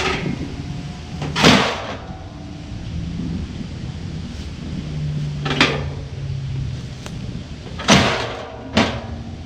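Several loud, sharp slams and clunks of a lawn mower's metal handle, spaced a few seconds apart, over a breezy outdoor background with no voices.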